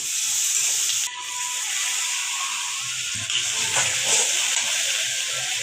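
Onions sizzling in hot oil in a pan for rohu fish curry, a steady loud hiss with faint crackles and occasional soft clinks throughout.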